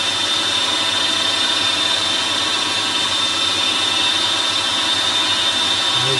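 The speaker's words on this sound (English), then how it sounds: "You don't want to raise a sharp drill bit on brass." Small used drill bit boring into a brass carburettor, a steady close mechanical whine with a constant high-pitched tone running unbroken throughout, no voices.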